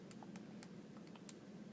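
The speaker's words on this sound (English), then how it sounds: "Just typing that in the calculator" Calculator keys tapped in a quick irregular run of soft, faint clicks against a quiet background, with no talk.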